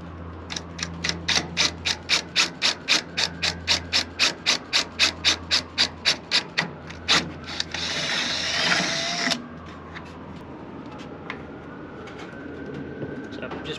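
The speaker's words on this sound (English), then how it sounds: "I'm just going to drill a hole here and then insert the rivet nut." A rapid series of sharp mechanical clicks, like a ratcheting tool, followed by a short burst of loud whirring as a hole is drilled for a rivet nut on a sailboat, then quieter handling noise.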